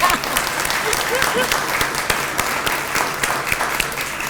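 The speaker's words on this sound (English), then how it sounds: "Let's just give them a round of applause right now." A crowd bursts into lively applause at a groundbreaking ceremony for a new performing arts center and artist flats, many hands clapping in a full, dense patter with a few sharp individual claps standing out.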